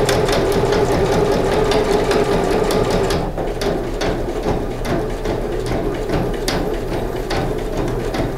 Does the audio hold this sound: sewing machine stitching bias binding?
yes